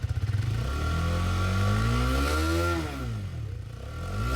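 Up close, a Hero Karizma XMR 210 motorcycle engine is revved from idle: the pitch climbs in a smooth rising whine, peaks, drops back, then begins to climb again, loud and unaccompanied.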